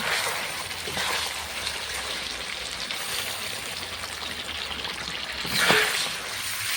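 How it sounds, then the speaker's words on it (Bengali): Water is poured into chicken cooking with coriander leaves, green chillies and black pepper, then stirred, giving a soft sizzle and trickle with a brief louder splash near the end. "এরপর সামান্য একটু জল দিয়ে আমি নাড়িয়ে নিব"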